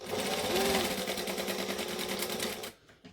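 Sewing machine running steadily at a rapid stitch rate while back-stitching, then stopping abruptly near the end, leaving brief faint handling sounds.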